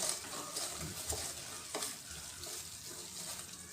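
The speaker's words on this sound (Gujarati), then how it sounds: "બેસન નાખીશું તો હવે આપણો લોટ બરાબર શેકાવા આવ્યો છે" Gram flour is roasted in ghee in a pan, with a steady soft sizzle under repeated scraping strokes of a spoon stirring it close up.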